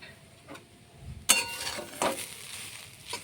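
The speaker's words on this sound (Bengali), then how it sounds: "গাজরটা ভাজা হয়ে গেছে" Carrots for carrot halwa fry quietly in a pan, a faint sizzle broken by a few sharp scraping and clinking stirs.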